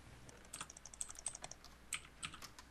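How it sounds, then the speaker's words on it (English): Rapid bursts of computer mouse or keyboard clicking during an underwater PvP game session, with quick irregular clusters of sharp clicks close by and fairly quiet, no voices. "I just heard spam clicks. Yeah, it was me spam clicking."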